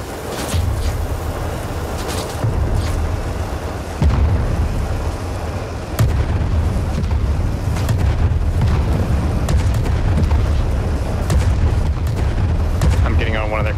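Heavy cannon fire in the airship game Worlds Adrift, with repeated deep booms and blasts thundering close and loud in an irregular barrage over a constant low rumble.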